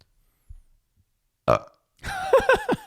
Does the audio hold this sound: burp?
yes